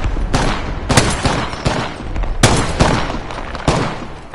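Gunfire in Apex Legends, a loud close burst of repeated shots with several sharp cracks spaced irregularly over a few seconds, alone without talk.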